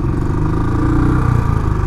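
A Royal Enfield Classic 500 single-cylinder engine labours up a steep mountain road in low gear, a loud, close, steady thumping rumble with a dense chugging pulse throughout.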